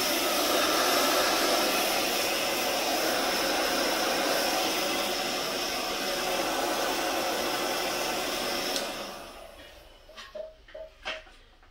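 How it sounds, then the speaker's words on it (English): A heat gun warming epoxy part A blows with a loud, steady, even roar for about nine seconds, then cuts off, leaving a few quiet knocks and handling sounds. "I'm using the heat gun to heat up the part A."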